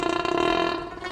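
A drawn-out burp in the live-action Scooby-Doo film rumbles with a throaty, pulsing buzz for about a second, fairly loud and alone.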